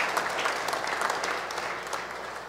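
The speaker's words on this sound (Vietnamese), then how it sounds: "chúng ta hãy vỗ một tràng pháo tay thật lớn để chúng ta mừng nhau" A congregation at a Christmas Eve Mass breaks into steady, full applause that fills the church evenly throughout.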